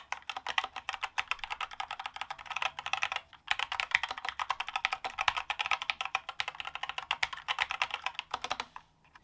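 Steady rapid typing on a Dierya DK61 budget mechanical keyboard with brown switches, a dense run of soft, close key clicks with a brief pause partway through, no voices.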